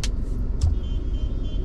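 The engine of a CNG-powered car runs again after stalling, a steady low rumble heard close up, with two brief sharp clicks near the start.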